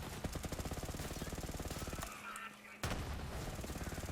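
The Magnificent gun in Borderlands 3 firing rapid automatic bursts, a dense rhythmic stream of close, loud shots that breaks off briefly, then resumes.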